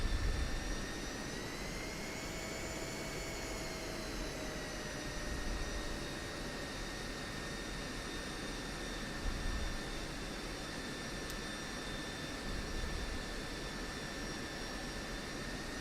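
An F-16C Viper jet engine in the DCS World flight sim taxiing: a steady, loud turbine roar and whine with a high tonal hum and rumbling low end, holding level with small swells as throttle shifts.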